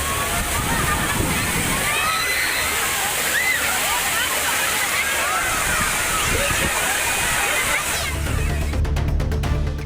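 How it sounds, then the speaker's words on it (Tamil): Water pours over the Kodiveri dam like a waterfall, a steady loud rushing roar with sloshing and splashing throughout, close and unbroken. "அருவி போல் கொட்டும் தண்ணீரில் ஆனந்த குளியல் போட்டனர்"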